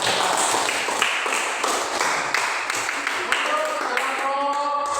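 A crowd claps steadily in a dense, continuous patter, with a voice starting to speak over it near the end.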